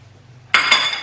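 Metal spoon stirring cooked rice with freshly added lime zest in a pot, a burst of scraping and clinking against the pot sides starting midway, close and moderately loud after a quiet start.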